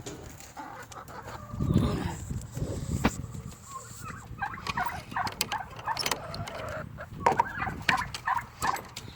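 Blue cochin chickens cluck and murmur continuously inside a shed coop, with ducks nearby, a busy mix of close and farther calls with no talk.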